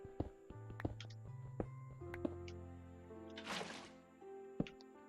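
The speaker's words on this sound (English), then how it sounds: "picking up and placing water makes sound?" Water being scooped up and placed with a bucket in Minecraft: a short splashing whoosh swells for about a second in the middle, set among soft game clicks and tones at low volume.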